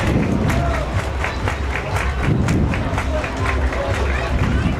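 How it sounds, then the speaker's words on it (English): A crowd at a baseball game cheers and murmurs with scattered claps, a steady wash of noise throughout. "Crowd coming alive here."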